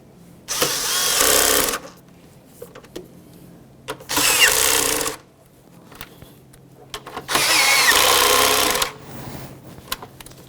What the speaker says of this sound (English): Once you have all 3 of them started, you can snug them up.